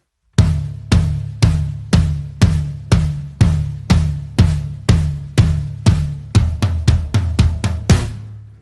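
A drum kit plays the tom intro of a rock song: a long series of evenly spaced, booming tom strikes that speed up into a quick flurry at the end, close and loud with no voices.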